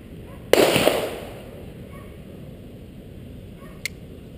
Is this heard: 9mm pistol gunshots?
yes